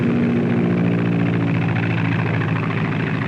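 A small tractor engine runs steadily at a remote Arctic camp site, a loud, even mid-pitched drone with a constant chugging hum that neither rises nor fades.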